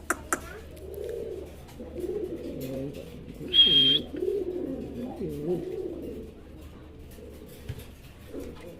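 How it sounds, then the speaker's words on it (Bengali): A pair of Mukhi fancy pigeons coo repeatedly at close range, with soft, rolling, throaty calls that rise and fall over several seconds against a quiet background. "এখানে কিন্তু খুবই সুন্দর একজোড়া মুখী কবুতর আছে"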